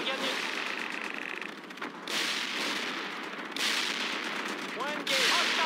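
Dense gunfire and explosions rattle through a battle in the war video game World in Conflict, with sustained bursts and sharp cracks and short shifts in the din, while voices call out over it.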